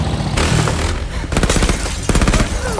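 Bursts of gunfire in a war film, rapid machine-gun style volleys with dense clustered cracks, separated by brief lulls, loud and close, without speech.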